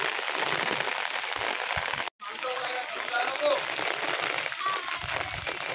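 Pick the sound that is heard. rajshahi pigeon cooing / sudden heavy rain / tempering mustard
sudden heavy rain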